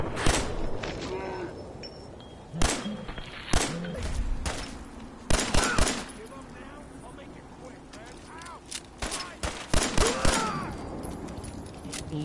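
Gunfire in Fallout 4 aimed at a tough survivalist enemy: sharp, loud shots ring out in irregular bursts and clusters across the span, with quieter background and a voice speaking between them.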